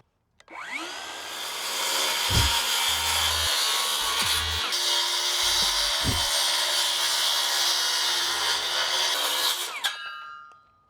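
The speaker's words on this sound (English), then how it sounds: "I'm just gonna use a circular saw with a wood blade on it, a finer wood blade" Circular saw fitted with a fine wood blade cutting through an old wooden fence, spinning up then grinding loudly and steadily for about ten seconds before winding down.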